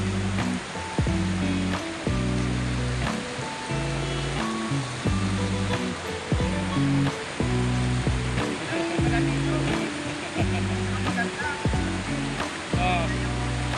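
Hidden Falls waterfall at Bulusan, Sorsogon, roaring as a steady, loud broadband rush close by, with music playing over it throughout.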